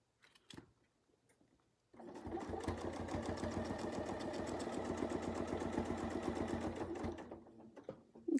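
A sewing machine stitches quilt fabric, running steadily for about five seconds with a fast, even mechanical rhythm, close and fairly loud, after a few soft handling clicks and before stopping near the end.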